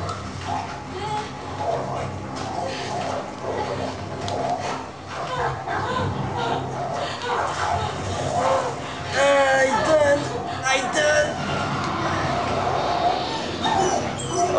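A dog barks, yips and whimpers while fighting in the game Beyond: Two Souls, close and agitated throughout amid game sound and music, with a French-speaking player talking over it.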